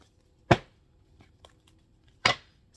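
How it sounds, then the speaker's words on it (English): Tarot cards being shuffled, heard as two sharp, close riffling bursts separated by a pause with a few faint taps between, no talking. "Let me shuffle these"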